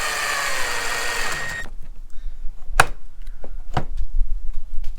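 A power screwdriver drives screws to mount hinges on E-Pro or Geo Pro 15TB cabinet doors, giving a short rising motor whir. Then comes a pause with a few sharp clicks and knocks from handling the hardware.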